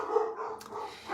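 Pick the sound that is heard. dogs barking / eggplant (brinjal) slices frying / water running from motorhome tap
dogs barking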